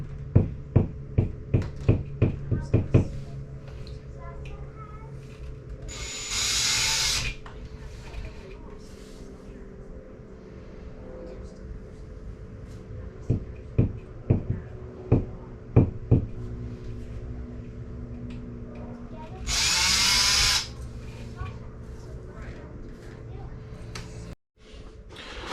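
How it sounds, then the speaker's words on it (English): Power drill boring a series of test holes while replacing an RV kitchen table, with two loud sustained whirring bursts and scattered knocks and clatter in between, heard close up. "just drilling a bunch of test holes"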